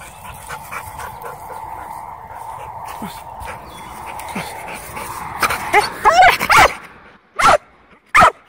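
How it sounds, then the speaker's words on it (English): A dog in a field barks several times in quick bursts near the end, after a stretch of quieter whimpering and yips, with sharp loud barks standing out clearly. "What are you barking at me for?"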